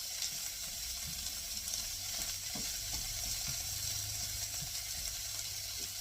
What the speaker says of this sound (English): I'm stirring it again because sometimes cornstarch will settle and stick to the bottom